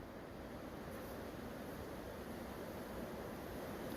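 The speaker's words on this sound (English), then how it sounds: "Can you hear wind?" Wind blows outdoors at a winter hammock camp in freezing weather, a faint, steady, broadband rush with no distinct gusts and no voices.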